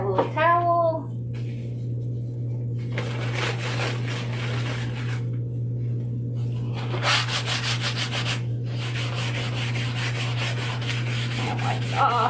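A towel wipes whitewash off a wooden wine sign in long rubbing strokes, coming in two main bursts over a steady low electrical hum, with no talking.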